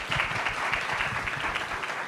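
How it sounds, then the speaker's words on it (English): Audience clapping at a university mental health conference, a steady, fairly faint patter of many hands heard from a distance, brief and even throughout. "Let's clap for them."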